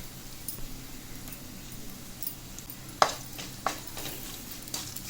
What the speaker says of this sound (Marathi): छान छान भाजून घ्यायचं सगळं व्यवस्थित